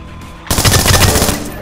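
A sudden loud burst of rapid automatic gunfire erupts after a brief quiet moment, with the shots cracking in quick succession during a Splinter Cell Blacklist multiplayer match.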